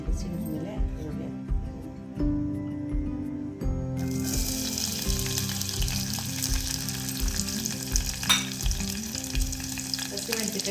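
Onion frying in a little hot tempering oil after mustard seeds have popped, a dense close sizzle that swells louder partway through, with rhythmic low stirring thumps and a voice talking underneath.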